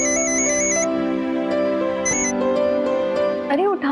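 A phone rings with an incoming call, playing a bright, repeating electronic melody that stays loud and steady over music, ending in a brief warbling flourish.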